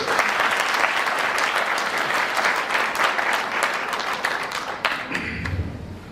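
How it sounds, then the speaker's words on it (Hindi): Loud, continuous applause from a crowd, many hands clapping together, gradually thinning out and fading toward the end. "अपने लिए तालियां बजा सकते हैं होगा"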